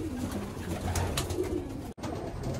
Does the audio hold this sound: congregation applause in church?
no